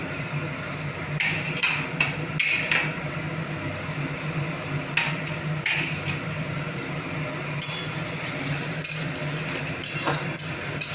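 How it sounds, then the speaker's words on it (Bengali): Onion paste being stirred in a pan while cooking at home, with intermittent scraping and clinking of a spoon against the pan over a steady low hum, with no voices. "পেঁয়াজ বাটাটা দিয়ে একটু নাড়বো"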